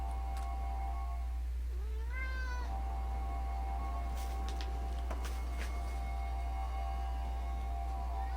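A cat gives a single rising meow in the middle of a quiet room, over a constant low electrical hum and steady tones, with a few faint clicks afterward.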